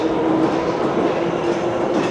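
Metro train rolling along with a steady, loud rumble and a faint high whine throughout, no voices.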